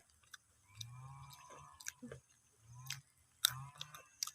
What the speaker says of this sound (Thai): ต่อไปเป็นกล้วย มันเหมือนจะหนึบหนึบมาฟังเสียง กรอบอยู่